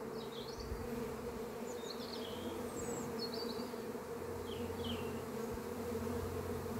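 Honey bees buzz steadily around an open beehive during a spring inspection of brood frames, a continuous drone with individual bees zipping close by now and then, heard alone without talk.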